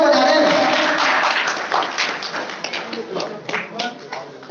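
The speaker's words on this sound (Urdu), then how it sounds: "تمام بہترین باکسر ہمارا لوگ تالیاں بجا رہے ہیں" Audience applause at the inauguration ceremony of a new boxing club academy in Mirpurkhas, a dense wash of clapping that thins into scattered individual claps, with crowd voices mixed underneath.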